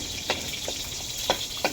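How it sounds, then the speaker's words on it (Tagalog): Meat and other ingredients sautéing in a pan for pakbet, a Filipino vegetable dish, give off a steady close sizzle with a few sharp scrapes of stirring. "nagisa na tayo"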